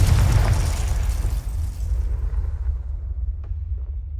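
A Confringo explosive spell in Hogwarts Legacy gives a loud, booming blast with a crackling burst at the start. A low rumble trails off over several seconds, and a faint tick comes near the end.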